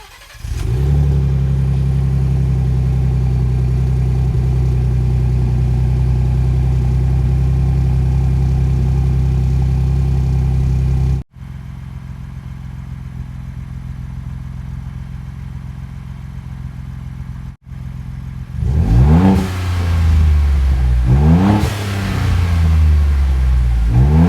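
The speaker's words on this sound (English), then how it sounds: "now it's time to get the dB meter out and see what this thing sounds like at a cold start" Vehicle fitted with an MBRP Armor Pro high clearance exhaust cold starts into a loud, deep, steady idle, cuts briefly, then revs in several sharp rising bursts up close.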